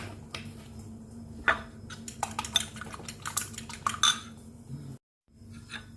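Utensil whisking scrambled egg seasoned with salt and pepper in a bowl, a steady scraping clatter with scattered sharp clinks against the dish, close and continuous, broken by a short gap near the end.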